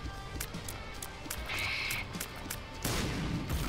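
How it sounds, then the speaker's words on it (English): Boss shots in the Binding of Isaac: Afterbirth video game burst into several short, sharp explosion pops spread across the moment, over a busy layer of game sound effects. "Explosion, just like Pin."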